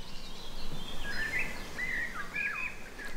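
Fluting, whistled phrases of a Eurasian golden oriole repeat a few times over faint background hiss, moderately distant and fairly quiet.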